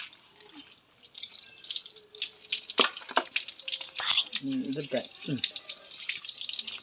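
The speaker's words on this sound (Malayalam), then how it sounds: "നന്നായിട്ടൊന്ന് കഴുകി അടിപൊളിയാക്കട്ടെ." Tap water runs and splashes in a sink while fish is washed by hand, with irregular drips and splatters. A voice speaks quietly over the water.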